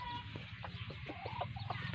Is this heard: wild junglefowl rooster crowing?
yes